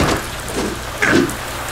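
Steady rain falling in the Deadpool video game, a soft continuous hiss and patter of drops that holds throughout, with a brief brighter swell about two-thirds of the way in.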